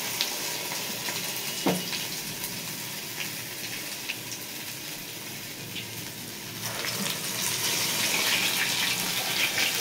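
Medu vada batter, made from soaked urad dal, drops into hot oil and sizzles steadily. The frying hiss stays dense and even and swells louder near the end.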